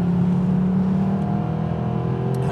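A Mercedes SLS AMG supercar's naturally aspirated engine pulls hard under acceleration, a loud, smooth, steadily rising growl heard from close by without any speech.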